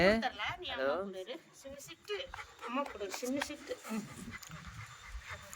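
A dog whines in high, wavering cries, with people talking over it almost throughout.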